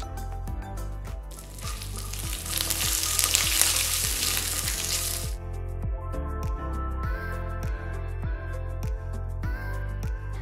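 Mustard seeds, dried red chillies and curry leaves tempering in hot oil in a pan for sesame rice, sizzling and popping loudly at first, then settling into softer frying crackle with scattered spatter.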